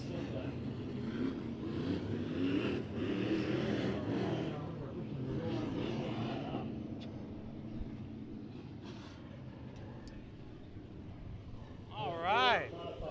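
Race car engines roar at Bakersfield Speedway during heat races, a broad, fairly distant rumbling drone with a louder rising pass near the end, while people talk over it.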